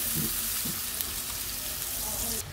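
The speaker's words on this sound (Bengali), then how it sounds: "মাছ ভাজার গরম তেলে আমি পেঁয়াজ দিয়ে দিচ্ছি" Onions sizzle loudly and continuously in hot oil left over from frying katla fish, a close, dense crackling hiss with a few soft stirring knocks and no talking.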